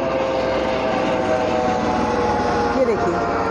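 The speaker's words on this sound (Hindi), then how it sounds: "यहाँ हर दो मिनट में आपको हेलीकॉप्टर यहाँ से वहाँ जाते हुए दिखाई देंगे" Helicopter passing near Katra station, a steady broad engine and rotor drone that swells slightly toward the end, with no talk over it.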